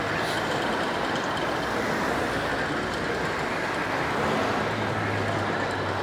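Vehicles approach along a road in a continuous broadband rumble and hiss, fairly close and steady, swelling slightly toward the end, with no voices.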